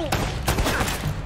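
Shotgun blasts in Uncharted: Drake's Fortune, with several sharp booming shots in quick succession amid busy game combat noise.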